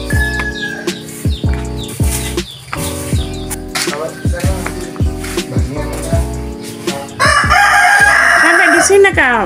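Village chickens clucking around a house, with a rooster crowing loudly near the end; rhythmic clucks and scattered bird chirps fill the yard, close and prominent, with faint background voices.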